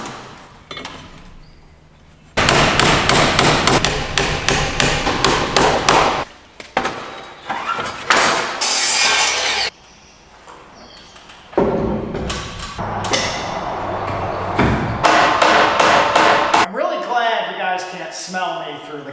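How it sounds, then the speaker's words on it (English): Loud rapid hammer blows on metal in a Land Rover workshop, in several bursts, sharp ringing strikes separated by short pauses, close by. "I'm not used to swinging the hammer this many times."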